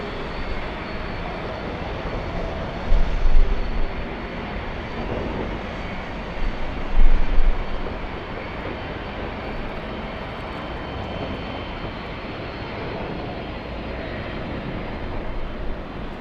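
Heavy jet airliners at Los Angeles International Airport produce a broad, continuous engine roar at moderate distance, steady throughout with a couple of brief swells, and no talk over it.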